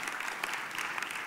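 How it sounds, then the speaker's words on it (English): Church congregation clapping during a sermon, a steady, dense wash of applause from many hands at moderate level, with no speech over it. "that's a good place to clap"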